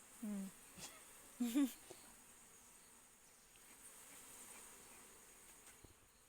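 Honeybees buzz faintly around a beehive during beekeeping work, a soft continuous drone, with a few brief voices and clicks near the start.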